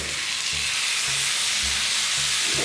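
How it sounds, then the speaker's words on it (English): A thick dry-aged Fiorentina steak sizzling loudly in a hot pan, a dense continuous crackling fry with no voices. "Man, can you hear the sizzle?"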